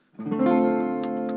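A short run of sustained, harmonically rich instrumental notes rising in a Dorian mode scale, clear and close with no voices.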